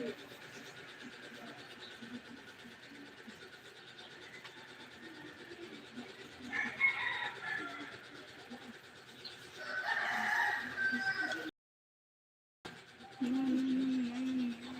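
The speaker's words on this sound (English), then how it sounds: "The chicken is from neighbor." A neighbor's chickens and rooster in Bicol, Philippines, with clucking and a rooster's crow carrying from a distance, under and between people talking nearby.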